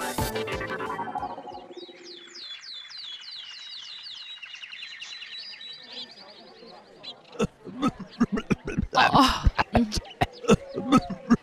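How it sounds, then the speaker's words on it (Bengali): Sick patients in an animated care-house scene cough and sneeze, a run of sharp, loud bursts arriving after a quieter stretch of light chirping tones. "কি হাঁচি কাশির আওয়াজ আসছে সেবালয় থেকে"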